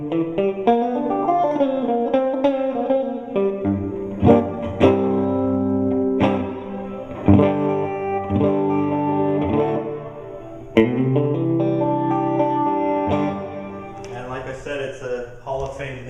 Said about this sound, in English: Here's the reverb on.